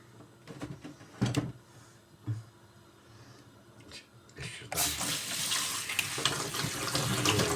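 Red lentils are washed under a running kitchen tap. A few clanks and knocks come first, then a strong steady rush of water runs for several seconds at close range.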